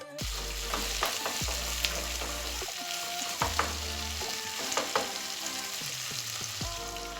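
Tomato paste frying in a pan for homemade chicken iskender, a steady low sizzle with intermittent sharp scrapes and clinks of a utensil spread across the span, no voices present.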